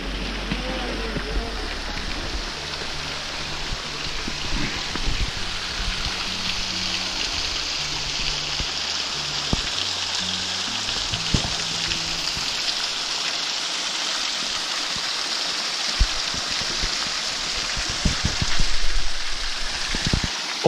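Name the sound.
small waterfall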